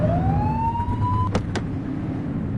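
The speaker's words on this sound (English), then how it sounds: "Get on their tail and blip the siren." Police car siren blip in The Precinct video game, a single rising wail that holds steady for about a second, cut off by two brief sharp bursts, loud over a steady engine and road rumble.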